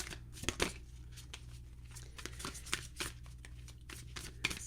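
Tarot cards are shuffled by hand in quick, soft papery riffles and slaps, with irregular crisp bursts close to the listener at low volume over a faint hum.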